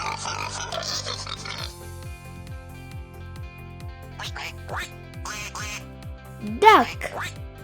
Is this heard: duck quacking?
yes